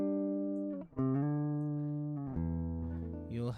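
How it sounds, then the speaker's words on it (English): Clean electric guitar tone from Guitar Rig 5 plays a few sustained, bright notes that change pitch in steps, close and moderately quiet with no voices. "an audio version of the clean guitar, which will sound like this"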